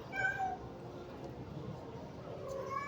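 A kitten gives a couple of soft, drawn-out meows, quiet and close, separated by a stretch of low background noise.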